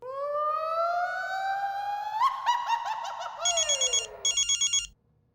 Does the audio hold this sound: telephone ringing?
yes